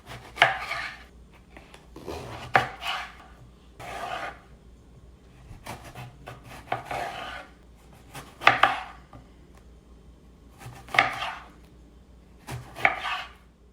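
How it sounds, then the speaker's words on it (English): A knife cuts a single unpeeled eggplant into medium cubes on a board, giving a run of crisp chops in uneven bursts with short pauses between them. The cutting is close and clear over a quiet background with no speech. "what I'm going to do is simply cut it into medium-sized cubes"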